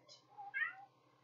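A pet cat meows indoors, two short faint calls in quick succession, fairly close but quiet, with no talk over them.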